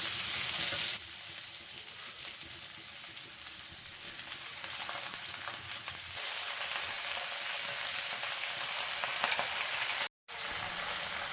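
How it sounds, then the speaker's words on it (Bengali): Malabar spinach leaves hiss and sizzle in a hot pan, with steady close frying and occasional stirring scrapes, broken by a brief silent gap near the end. "আর এখন আমি পুঁই শাকের পাতাগুলো দিয়ে দেবো।"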